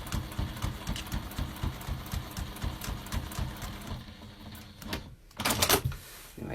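A sewing machine stitches a fabric pocket in place with a steady run of quick mechanical clicks. The stitching ends in a brief louder clatter.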